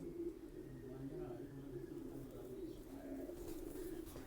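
Pigeons coo in low, throaty rolling calls that go on steadily, fairly close, with a faint background rustle.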